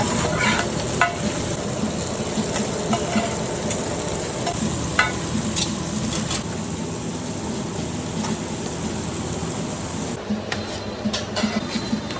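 Food sizzles loudly and continuously on a hot griddle at a street food stall in southern China, a dense crackling hiss with occasional scraping and taps on top.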